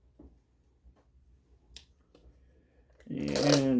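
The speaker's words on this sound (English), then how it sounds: "And more plastic film that comes off" Protective plastic film is peeled off an EazyRC Triton RC truck, a few soft crinkles and ticks early on, then a loud, sustained tearing rasp toward the end.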